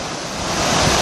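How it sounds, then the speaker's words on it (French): Surf washing onto a smooth beach near Étang Saint-Paul on Réunion, a steady broadband roar of breaking waves that swells slightly louder toward the end, with some wind across the microphone. "avec le sac et le ressac et le flux et le reflux."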